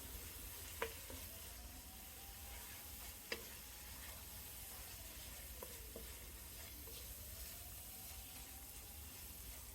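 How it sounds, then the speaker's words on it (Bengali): Ginger-garlic paste fries with browned onions in a pan for prawn biryani, a soft steady sizzle and hiss with a few sharp spoon clicks against the pan, quiet and close, no voices. "আদা রসুনের গন্ধ না যাওয়া পর্যন্ত আমি কষিয়ে নেব"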